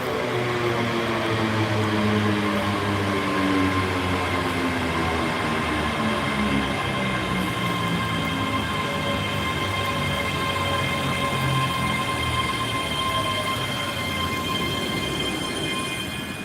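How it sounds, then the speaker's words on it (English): A six-carriage Class 385 electric train, two units coupled together, rolls into a station with a loud, sustained rumble and rising and falling wheel and motor tones that carry through the whole stretch. "There's another train pulling in"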